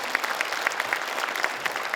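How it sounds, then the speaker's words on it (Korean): An audience at a forum on next-generation nuclear reactors and small modular reactors claps after a video, brief steady applause with a few distinct nearby claps standing out. "박수 한번 부탁드리겠습니다."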